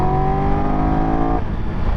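Engine of a 2022 Triumph Tiger 1200 Rally Explorer motorcycle, a loud, close, steady tone held on a constant pitch that drops abruptly partway through to a rougher rumble.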